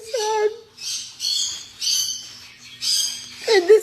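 Birds call in short, bright bursts, a flock chirping and squawking repeatedly at steady intervals, fairly close, with a brief voice-like sound at the start and end.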